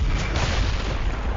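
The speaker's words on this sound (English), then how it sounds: "Yeah, it's a massive red explosion." A huge red explosion attack called Red Reversal from the Roblox-style fighting game Sorcerer Battlegrounds, heard as a loud, sustained booming blast with a dense low rumble that fills the whole moment.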